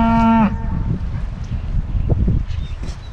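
A loud, close cow moo opens during a cattle drive with cow dogs, followed by rustling, shuffling movement and faint background noise.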